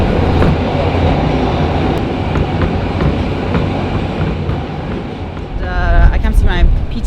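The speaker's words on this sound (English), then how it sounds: "so we take the subway to get there" A New York subway train rumbles steadily with clattering wheels, rising near the end into a louder screech of metal as the car moves along the track.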